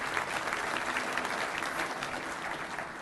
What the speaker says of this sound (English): Don't let me thwart your applause in any way